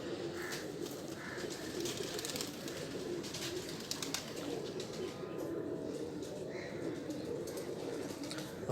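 Shikra breed pigeons cooing in Lahore, a low continuous murmur of several birds close by, with occasional chirps and wing flutters over a busy outdoor background.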